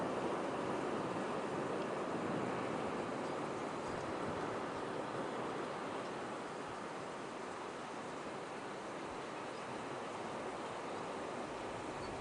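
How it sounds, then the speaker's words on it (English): Steady broadband wash of ocean waves beside a kelp bed, heard from a boat lying at anchor in a cove, continuous and even with no talk over it. "Hopefully you can hear the sound of the waves."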